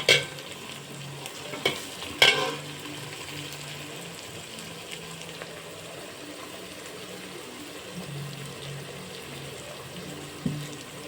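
Masala for chicken biryani sizzles quietly in a pan while a utensil scrapes and stirs, with a few sharp clinks near the start and end.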